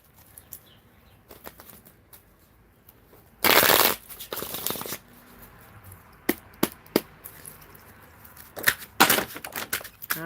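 Tarot cards being shuffled and pulled during a live reading, a dense burst of riffling around the middle followed by scattered short card snaps and slaps, fairly close with no talk.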